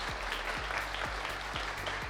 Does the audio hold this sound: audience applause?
yes